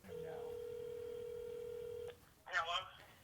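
A phone line gives a long, steady dial tone, which cuts off abruptly. A short burst of dialing tones follows after a brief pause, heard close and clear.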